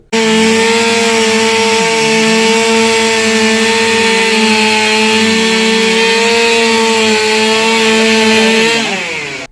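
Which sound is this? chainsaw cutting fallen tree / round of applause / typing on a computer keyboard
chainsaw cutting fallen tree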